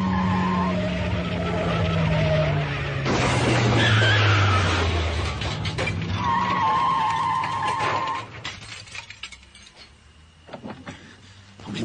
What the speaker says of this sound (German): Die Bremsen versagen. Schlingernd schießt der Sportwagen auf das Mädchen zu.